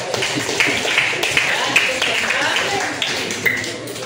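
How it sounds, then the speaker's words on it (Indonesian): Students in an Indonesian classroom clap their hands together, a short burst of brisk, fairly close applause with distinct sharp claps standing out, heard under the teacher's voice. "Oke, tepuk tangan."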